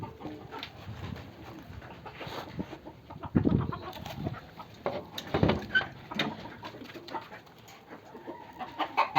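Chickens cluck around a hen house in irregular bursts, some loud and close, others softer, with faint rustling between calls and no talking.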